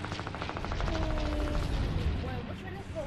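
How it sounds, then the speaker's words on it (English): Minigun in a video game spinning up and firing a rapid, continuous stream of shots for about three seconds, dense and close, with voices talking over it. "A minigun."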